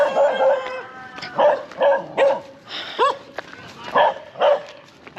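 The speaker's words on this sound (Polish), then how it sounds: "Cicho pies!" Several sharp dog barks and yips come in quick bursts, fairly close, with a few short whiny cries between them.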